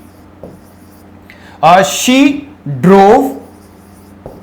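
Chalk or marker writing on a board during an English grammar lesson gives soft scratchy strokes under a teacher's spoken words, with brief taps at the start and end.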